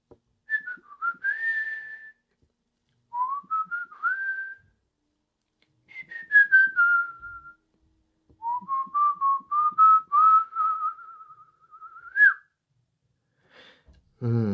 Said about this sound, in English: How about some whistling?